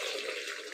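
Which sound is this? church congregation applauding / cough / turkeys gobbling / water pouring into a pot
water pouring into a pot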